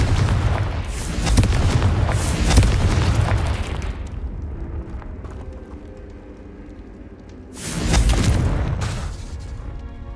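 A Confringo blasting spell in the Hogwarts Legacy video game sets off loud, rumbling explosions: a long booming blast followed by a quieter stretch and then a second heavy boom.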